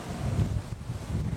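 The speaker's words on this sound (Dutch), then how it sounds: "Wat waait het, hè?" Strong wind in Leeuwarden gusts and buffets the microphone in a steady, loud rush.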